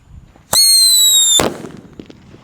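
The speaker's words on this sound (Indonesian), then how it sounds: "Di sini ada mercon Whistling Thunder yang warna merah guys." A shrill whistling shriek from a Whistling Thunder firecracker rises for about a second, then ends in a sharp, loud bang that fades quickly.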